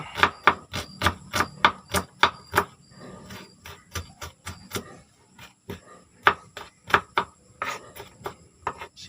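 A knife chops onion finely on a board, sounding as close, sharp, rapid strikes in quick bursts separated by short pauses, with no voices.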